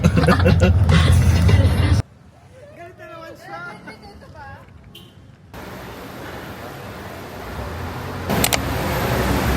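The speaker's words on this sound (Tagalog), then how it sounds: "Kasi tingnan mo, grabe yung traffic." Road traffic noise on a congested street on the way to a wedding, a steady broadband roar of passing cars loud at first, dropping into quieter stretches with people talking, then the traffic rumble rising again.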